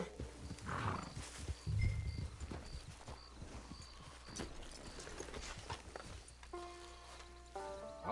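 Horse sounds in the Red Dead Redemption 2 Online game: hooves clip-clop at a steady pace and a horse snorts and whinnies over a low ambient bed, with a brief musical tone near the end.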